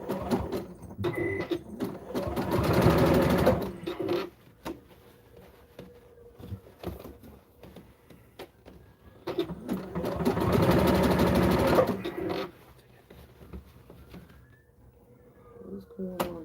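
Sewing machine safety stitching the crotch seams of spandex wrestling tights, two steady whirring runs of a few seconds each, close and moderate, with a person talking at the pauses.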